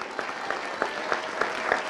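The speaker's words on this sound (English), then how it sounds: "I wish you'd clap better than that" An audience at a church sermon claps in a brief, thin patter, fairly faint and distant, with scattered hand claps over a steady room hum.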